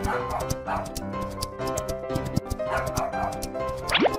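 A dog barking in a quick series of sharp yips and barks, close and loud, with a whimpering rise near the end.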